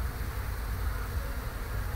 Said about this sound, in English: All these bees are inside my car because we just came from the